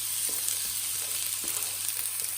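Half a medium onion sizzles in hot oil for a spinach dal tadka, a loud, steady frying hiss that runs unbroken throughout with faint stirring scrapes beneath.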